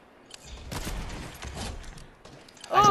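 Sniper gunshots in the Fortnite video game, a few sharp cracks spread across a short span over faint background game sounds, ending in a louder burst with a ringing tone.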